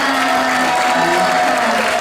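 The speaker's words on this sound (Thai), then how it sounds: "ขอเสียงปรบมือห้กับผู้กำกับและนักแสดงนะฮะ" An audience at the gala premiere of the Thai film Flat Girl applauds the director and actors, a loud, dense wash of clapping that holds steady with faint tonal sounds underneath.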